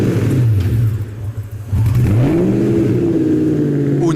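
A Spyker C8 Spyder sports car engine fires up and revs, the deep exhaust note dipping then climbing in pitch as it accelerates, loud and close.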